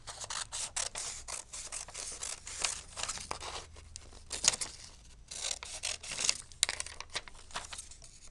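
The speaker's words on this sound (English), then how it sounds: "let's cut out the whole rectangle" Repeated paper tearing and crinkling from scissors cutting out a large paper rectangle at a desk, close and fairly quiet, with irregular bursts of snipping and rustling and no talking.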